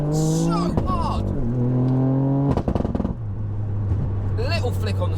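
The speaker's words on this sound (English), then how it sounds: "So I'm on an anti-lag section now, and it hits so hard." A 500 hp GR Yaris engine running anti-lag, its loud, close tone rising and falling through the revs, with a sharp burst of popping and banging midway.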